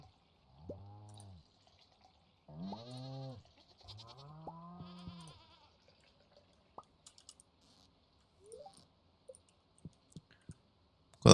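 Goats bleat while being milked in the farming video game Stardew Valley: three wavering bleats in a quiet setting, followed by sparse soft clicks and taps.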